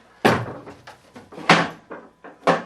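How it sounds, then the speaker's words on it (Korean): Door quickly shut in a radio drama, a series of sharp wooden knocks and thumps, with two loud close slams among softer rattles and clatters, no voices. "늙은 여성은 아큐가 풀이 꺾이는 것을 보고 재빨리 문을 닫아버렸다"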